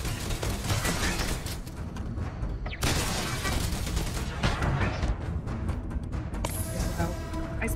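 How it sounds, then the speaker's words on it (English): Turret gunfire in the video game Starfield: a dense, continuous barrage of loud shots and booms with short gaps, layered with mechanical clatter, heard up close. "At least we're not getting shot by the turrets."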